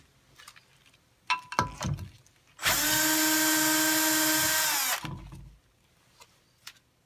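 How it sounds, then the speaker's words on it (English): A powered screwdriver runs in one steady burst of about two and a half seconds, backing out a screw that holds the driver to its housing in an MHL/ML 07 unit. Clinks and handling knocks come just before and after. "Now we're going to remove the 2 screws that retain the driver to the driver housing."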